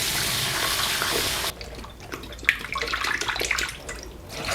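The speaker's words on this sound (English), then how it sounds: "I'm going to quickly give it a rinse." Dried shiitake mushrooms rinsed under a running kitchen tap: a steady stream of water hissing at first, then cutting to quieter, irregular splashing and trickling as the mushrooms are handled.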